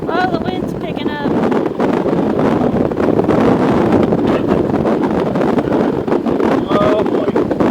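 Strong wind buffets a motorcycle rider in Poudre Canyon, a loud, continuous roar of wind across the microphone with a voice talking briefly underneath.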